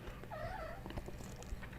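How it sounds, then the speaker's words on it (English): A house cat lets out a single short meow, faint and somewhat distant, over a hum of background noise, followed by a few soft rustles. "That's the cat trying to get comfortable somewhere."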